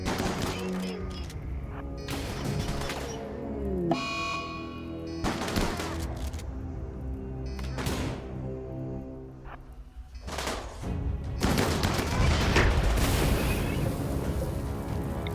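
Grenade blasts and bursts of gunfire from a RimWorld battle, with a grenadier lobbing grenades at enemies; repeated explosions and volleys overlap in dense, loud clusters throughout, with no speech.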